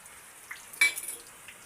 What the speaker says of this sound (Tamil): சூடான பிற்பாடு கடுகு சேர்த்துக்கொள்வோம். பட்டை, காஞ்ச மிளகாய்,